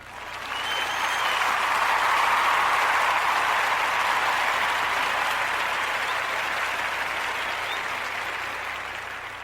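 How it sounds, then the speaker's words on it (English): An audience applauds steadily for about nine seconds, swelling quickly at the start and then slowly tapering, with no talking over it. "So let's give her a round of applause for another."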